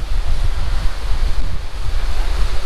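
Flowing stream water along the Kareri Lake trek, a loud, steady broadband rush with no break and no voices.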